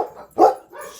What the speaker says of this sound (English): Oh, I'm attacked by dogs.